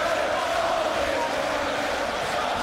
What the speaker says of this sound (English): chants of the crowd go up once more